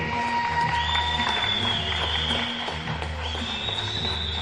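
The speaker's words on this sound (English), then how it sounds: "one more round of applause for our national champions, Cal State Fullerton" A crowd at a roller hockey championship applauds the national champions, Cal State Fullerton, in a sustained, dense wash of clapping with some cheering, while an announcer's voice carries over the top.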